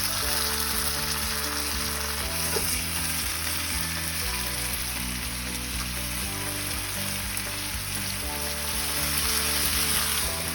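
Sliced leeks sizzle and fry steadily in olive oil in a pan, destined for a quiche; a continuous, fairly loud crackling hiss with no talking.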